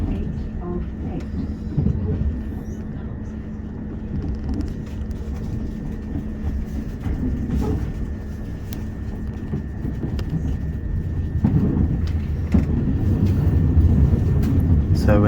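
Onboard a Class 313 electric train crossing a viaduct: steady low rumble of wheels and motors with rhythmic rail clicks, a faint tonal hum, growing slightly louder toward the end.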